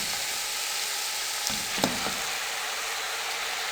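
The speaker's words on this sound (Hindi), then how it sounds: "अब इसके साथ ही हम बॉयल मकरोनीज इसमें डाल देंगे।" Boiled macaroni tipped into a pan of frying chicken for a vegetable macaroni dish, with a steady sizzle throughout and a brief louder hiss and clatter as the pasta goes in midway.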